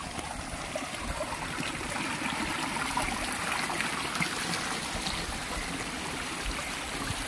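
Shallow stream water rushing and trickling steadily over rocks during a river crossing, a continuous close wash with no voices.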